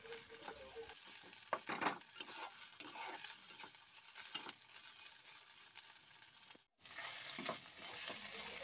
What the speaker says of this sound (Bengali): এইভাবে আমি মিনিট 3 ধরে ভালো করে কিন্তু কষিয়ে নিচ্ছি আদা রসুনটাকে তেলের উপরে।